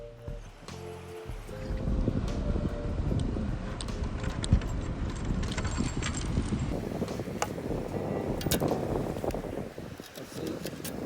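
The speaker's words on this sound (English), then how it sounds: "This wind sure is picking up" Wind buffets a beach while metal detecting, a constant rough roar close to the microphone, with scattered clinks and rustles of handling over the top.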